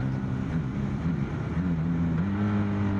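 A Honda VFR 1200 Crosstourer V4 motorcycle rides along with a steady engine drone, its pitch climbing and then dropping as it shifts up through the gears at low speed.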